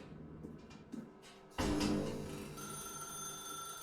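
A telephone rings in The Stanley Parable: Ultra Deluxe, with a sudden loud ring that starts partway through and keeps sounding over soft background sound.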